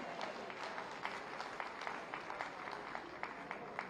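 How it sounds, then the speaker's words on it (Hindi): Applause from an audience at a Uttar Pradesh Day ceremony in Lucknow as a boy receives a first prize, a steady, fairly distant wash of many hands clapping throughout. "आप सब जोरदार तालियां इस बालक के लिए बजाएं"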